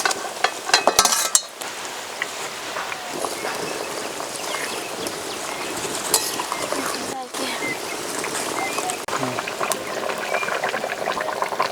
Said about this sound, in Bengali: ঝোল ফুটে উঠেছে, এবার ভেজে রাখা মাছ বেগুন দিয়ে দেব।